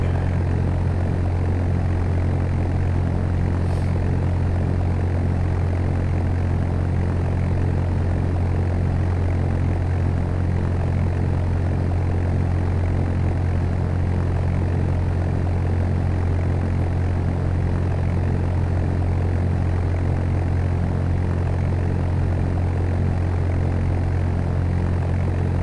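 Propeller aircraft taxiing at Chicago Midway in the flight simulator game Fly! II, a steady low engine drone held at constant level throughout with no changes or voices.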